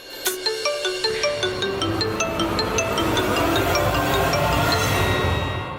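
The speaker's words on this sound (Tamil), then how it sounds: "இப்பதான் போன் வேற வரணுமா?" A mobile phone ringtone plays a bright repeating chiming melody, loud and close, ringing steadily throughout with no talk.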